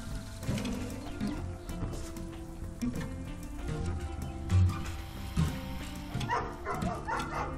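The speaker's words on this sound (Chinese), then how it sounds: "狗。" A dog barks in a game set in a dark night forest, giving short, moderately loud yips and woofs scattered through a busy background of ambient music and rustling.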